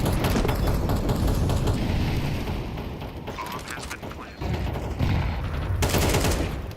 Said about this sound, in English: solid shot there onto Swisher.